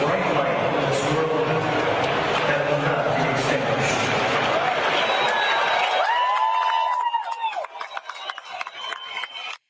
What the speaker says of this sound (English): As the crowd chanted USA, a video of Charlie and a message from his widow, Erica, played at the stadium.